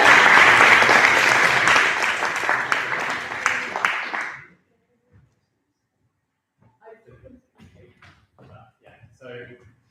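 A round of applause from the attendees at a student JCR meeting, loud and sustained for about four seconds before cutting off, followed by quiet and a few soft sounds.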